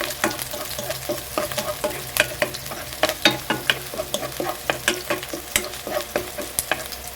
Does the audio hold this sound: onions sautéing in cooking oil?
yes